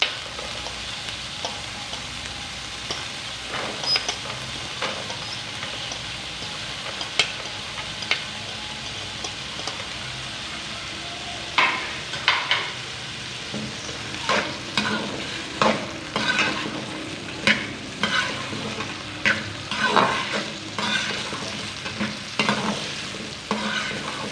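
Potatoes and peas stir-fry in a hot pan for veg egg fried rice, with a constant close sizzle and repeated sharp scrapes and clinks of a spatula that grow more frequent over time.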